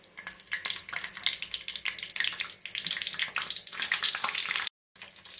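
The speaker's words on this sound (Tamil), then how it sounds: "இப்போ எண்ணெய் காஞ்சதும் கடுகு, காஞ்ச மிளகா போட்டுக்கிறோம்." Mustard seeds and dried chillies sizzle and crackle in hot oil in a kadai, a steady dense frying hiss with popping spatters that cuts out briefly near the end, then resumes.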